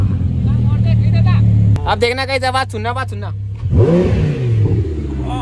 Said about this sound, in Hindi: एक बार गाड़ी स्टार्ट कर दे भाई, रेव मत करियो